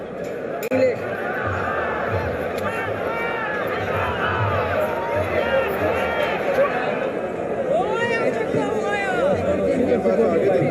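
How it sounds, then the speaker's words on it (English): Dense crowd chatter fills a cricket stadium during an England versus Afghanistan one-day match, a steady loud hubbub of many voices with bursts of cheering and whistles rising through it. "Great crowd."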